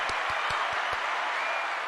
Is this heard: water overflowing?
no